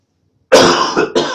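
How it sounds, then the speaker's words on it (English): Two loud, close coughs from someone with a lingering cold: a harsh burst after a short silence, then a second shorter one, with no talk. "Sorry, I'm gonna cough."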